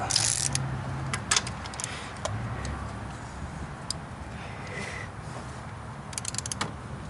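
Tightening head bolts on a Chevy 5.3 Vortec LS V8 with a ratchet wrench, a few sharp clicking ratchet ticks and metallic knocks near the start and end, close, with quieter handling noise between and no speech.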